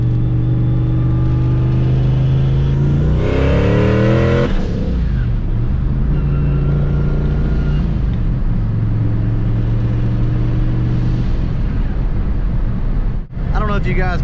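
A turbocharged car with a 10 lb wastegate spring launches off a brake boost on Nitto 555 R2 drag radials. The engine roars and climbs steeply in pitch for a few seconds, then drops to a steady rumble while a voice speaks over it.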